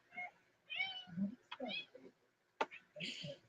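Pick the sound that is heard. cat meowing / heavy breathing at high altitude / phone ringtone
cat meowing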